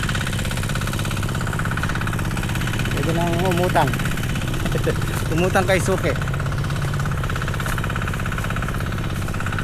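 An engine-driven water pump on a farm runs at a steady idle with a constant mid-pitched drone and vibration, while people talk over it.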